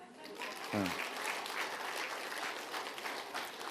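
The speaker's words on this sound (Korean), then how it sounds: "박수 한번 줘요" An audience at a talk concert breaks into sustained applause, a dense wash of clapping filling the whole stretch, with a brief voice heard near the start.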